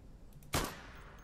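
A single sharp gunshot in the video game Insurgency cracks out loudly, its echo tailing off quickly over a faint background.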